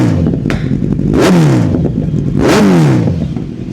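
A loud superbike engine revs hard twice through its exhaust, each rev climbing and then dropping, with a rough idling rumble between bursts.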